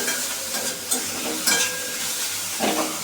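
Red saag greens with poppy seed sizzle and hiss steadily in a pan on a gas stove, with occasional scraping stirs of a spatula against the metal.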